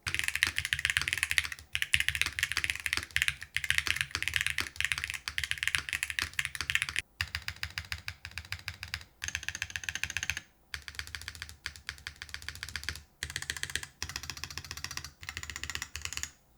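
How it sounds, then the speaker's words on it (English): Steady typing on a keyboard with Hall effect switches, a dense run of soft, even key presses that pauses briefly now and then before resuming, close and clear with no talking. "So here's how they sound in a keyboard."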